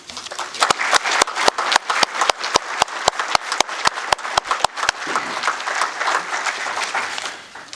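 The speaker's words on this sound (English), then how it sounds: "Please join me in giving all of them a well-deserved round of applause for a job very well done." Applause at a sheriff recruit graduation ceremony: a crowd claps steadily with one loud, close clapper keeping a regular beat for about five seconds, then the sound thins into scattered, fading claps.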